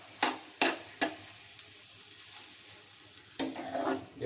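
A spoon stirs coarse garam masala into frying goat brain masala in a pan, giving a few sharp scraping clinks over a soft steady sizzle, close and fairly quiet.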